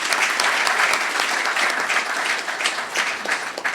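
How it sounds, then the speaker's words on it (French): A hall full of people at a Burkina Faso football coaches' training session applaud to congratulate a newly appointed official, a dense, loud, continuous clapping that holds steady throughout with no voices. "j'aimerais qu'on lui adresse de vives félicitations à travers des applaudissements"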